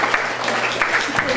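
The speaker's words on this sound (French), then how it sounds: "Et on vous applaudit ceux qui ont pris l'engagement" An indoor audience claps in a brief burst of dense, even applause at moderate loudness, with a faint voice underneath.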